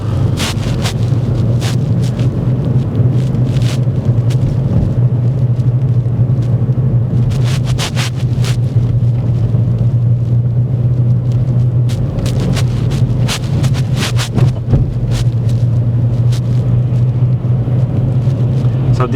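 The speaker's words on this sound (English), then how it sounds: "You're ready to put your foot down on the gas there" A car pulls away from a junction at traffic lights during a driving lesson, its engine giving a steady, loud low rumble inside the cabin, mixed with wind buffeting and bursts of noise.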